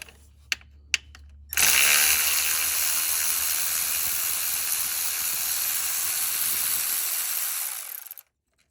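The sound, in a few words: electric ratchet removing bolts on water pump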